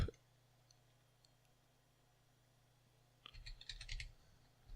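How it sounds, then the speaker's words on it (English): Fast bursts of clicking keys on a computer keyboard while a terminal command is entered, close and quiet, arriving after a few seconds of near silence over a low hum. "So I'm going to type"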